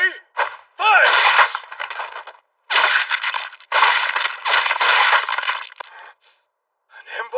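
In an anime battle, gunfire sounds as loud, sustained crackling volleys in several long bursts with brief gaps between them and a short trailing burst at the end.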